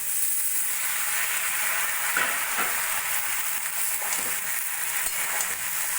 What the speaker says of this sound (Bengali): মশলা দিয়ে ভাজা ভাজা করে নিয়েছি এবার দিয়ে দেবো আমি আগে থেকে ধুয়ে রাখা লাউ শাক